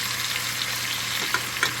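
Chicken sears in a hot pan with a steady, close hiss and crackle of frying fat, broken by a couple of faint ticks, and no voices over it.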